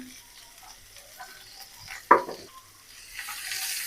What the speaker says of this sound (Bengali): তেল গরম হয়ে গেছে, সামান্য একটু জিরে দিয়ে দিব, পেঁয়াজ কুচি, কাঁচামরিচ কুচি